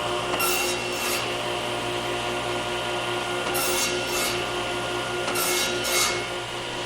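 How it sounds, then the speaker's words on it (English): A wooden tenon is nibbled away during a trestle table build, giving a steady rubbing, rasping cut with a constant machine hum beneath and several brighter bursts of shaving noise at irregular intervals. "I'm just going to nibble away the tenon."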